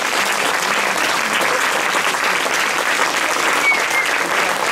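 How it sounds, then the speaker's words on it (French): Sustained applause fills a banquet hall, honoring the kitchen staff at a Handi Raid 2018 gathering in Seyssel; dense steady clapping from a large crowd continues at an even level throughout, with no voices standing out. "On peut l'applaudir."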